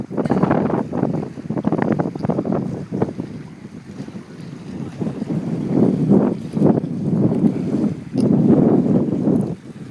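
Strong wind by the Sognefjord at Leikanger, Norway, buffets the microphone in heavy gusts, rumbling and roaring with brief lulls between blasts.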